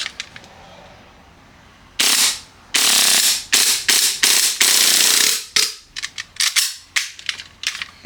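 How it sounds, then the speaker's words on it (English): An airsoft Hi-Capa pistol dry-fires in loud, sharp pops, starting as spaced shots and speeding into a rapid, uneven string close by, with no talk. "Let me just dry fire for you guys."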